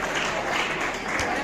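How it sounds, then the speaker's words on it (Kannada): Loud applause from a crowd at a ceremony, a dense continuous clatter of clapping. "ಜೋರಾಗಿ ಚಪ್ಪಾಳೆ ತಟ್ಟುವ ಮೂಲಕ"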